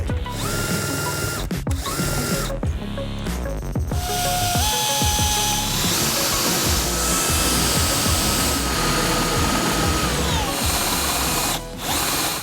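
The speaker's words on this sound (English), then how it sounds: "we're just going to go ahead and drill out the rest of the holes" A power drill whines loudly and steadily, boring bolt holes through metal for a chase rack on a Ford F-150 Raptor, with sustained grinding, after a few short starts and stops at the beginning.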